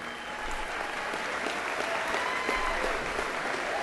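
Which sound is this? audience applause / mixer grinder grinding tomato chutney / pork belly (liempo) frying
audience applause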